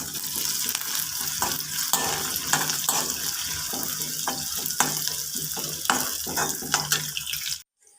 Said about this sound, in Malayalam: ഇനി ഒന്ന് നമുക്ക് ഇളക്കി കൊടുക്കാം.